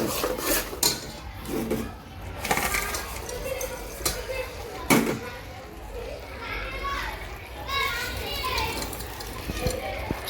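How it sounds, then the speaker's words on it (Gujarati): Roasted flour and jaggery being stirred in a pan for sukhdi, with scraping and clinking of a spoon against metal, mixed with background chatter and children's voices throughout. "ગોળ નાખી દો ને થોડી વાર હલાવું, સરખું મિશ્રણ થઈ જાય"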